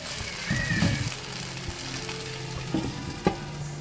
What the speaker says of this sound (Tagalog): ihalo-kain natin ng mabuti para ma-mix lahat yung mga ingredients